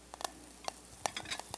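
Curry leaves dropped into a hot pan, giving a few soft crackles and a gentle sizzle alongside light stirring taps, close and quiet.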